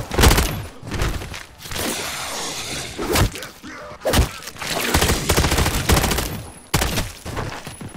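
Heavy gunfire in Call of Duty Zombies, loud repeated bursts and sharp impact cracks with brief lulls, shots coming close and fast over the whole stretch.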